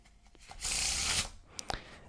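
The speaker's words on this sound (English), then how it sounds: "The rest of the deck can actually be shuffled by your spectator." A deck of playing cards is riffle-shuffled close by, giving one dense, loud burst of flapping cards for about half a second, then a few soft taps and snaps as the deck is squared, with no talking.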